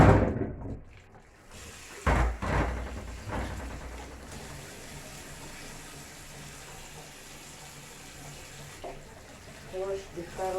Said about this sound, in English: wash the carrot.